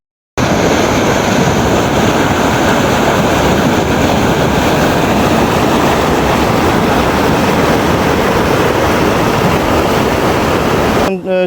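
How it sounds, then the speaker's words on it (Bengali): Water roaring through a sixteen-gate sluice gate from a canal into a river at Sakhra Komorpur near Bhomra, Satkhira, Bangladesh, a loud, steady, broadband rush that fills the whole stretch without pause. "শুনতে পাচ্ছেন প্রচুর গর্জন। আর এখানে দেখুন ওই পাশে খাল থেকে নদীতে কিভাবে পানি আসছে"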